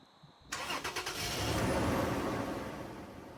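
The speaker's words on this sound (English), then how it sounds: "there's nothing left other than to start up the truck" A 2nd gen Toyota Tacoma engine starting after a spark plug change: a brief starter crank of a few quick pulses, then the engine catches and settles into a steady idle, close and alone.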